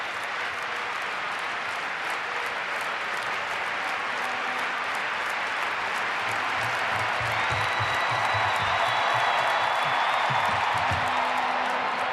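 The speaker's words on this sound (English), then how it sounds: "Ivana Vuleta, the defending champion from Serbia, will be roared on by this crowd" A packed indoor arena crowd at a women's long jump final in Belgrade's Štark Arena claps and cheers for Serbia's defending champion Ivana Vuleta, a sustained, dense wall of applause that swells slightly toward the end.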